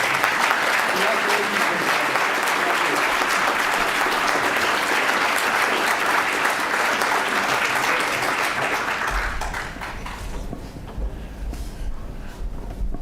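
Audience applause for honorees at an Earth Day climate action event, loud and sustained clapping from a crowd that tapers off toward the end, with speech faintly audible underneath.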